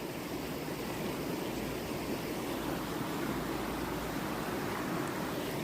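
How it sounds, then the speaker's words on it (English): Gently flowing water makes a soft, steady, even wash that continues without pause or change throughout, with no voices. "The water gently flowing, gently bringing this dead,"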